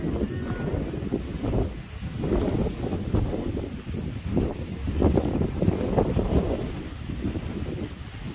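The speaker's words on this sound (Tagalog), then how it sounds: "Lakas ng hangin." Strong wind buffets the microphone in rough, roaring gusts on a mountain day hike at Mt. Kapigpiglatan, Zambales, a constant low rumble of blustery air for several seconds.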